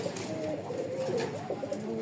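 Domestic pigeons kept for sale in Rajshahi, Bangladesh, give soft, close, throaty coos in a brief run of repeated calls.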